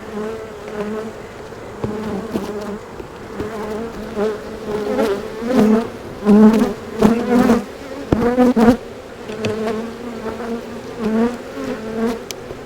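Honeybees swarming around an opened beehive late on a cloudy day, their agitated buzzing close and loud, rising and falling in waves as individual bees pass near, with no talking.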